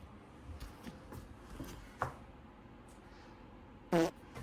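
A short, abrupt fart sound bursts out once near the end, loud and close after a stretch of quiet background rustling in a Japanese convenience store setting.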